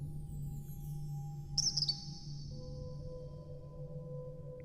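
A short bird chirp sounds in the VR game Colossal Cave, a quick bright trill standing out over a steady low electronic hum in a quiet game scene.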